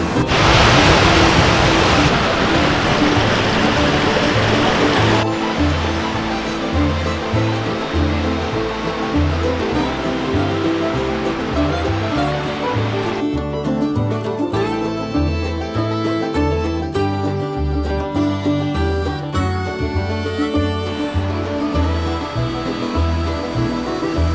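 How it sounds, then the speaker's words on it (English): Cornet Creek Falls near Telluride rushes in a constant broad roar, loudest at first, while a looping melody plays over it. "Hiking up to Cornet Creek Falls."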